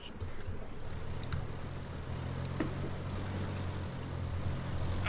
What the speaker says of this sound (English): Still hear a chopper east.